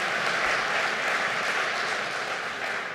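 An audience at a firearms freedom symposium keynote breaks into steady, sustained applause, a dense wash of many hands clapping at an even level throughout, with no speech over it.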